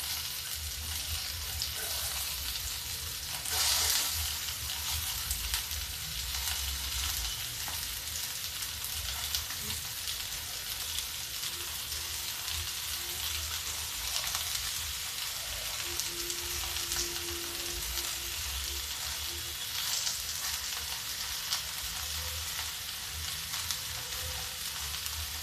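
Ridge gourd (torai) pieces frying lightly in a pan, a steady soft sizzle with occasional stirring clatter, close and fairly quiet, with no talking.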